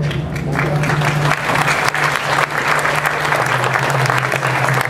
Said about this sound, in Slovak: Toto je už taký vážnejší potlesk